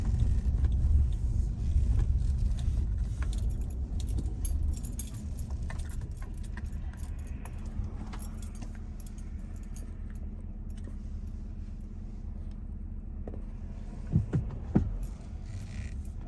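Car traffic heard from inside a vehicle waiting to pull out on a Sunday, a steady low engine rumble and road hum throughout, with light jangling and a few clicks near the end.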